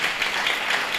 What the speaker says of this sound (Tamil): நல்லா கைத்தட்டலாமா அந்த சகோதரிக்காக?